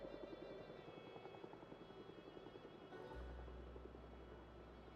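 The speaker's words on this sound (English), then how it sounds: "while the helo's overhead" A helicopter flies overhead in the zombie survival game Project Zomboid, a steady low rotor drone and hum holding through the whole stretch with a deeper rumble swelling in near the end, no talking over it.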